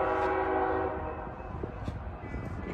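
Intermodal freight train 283 in Toccoa, Georgia, blowing a loud sustained horn chord that fades as rail rumble and wheel clatter continue.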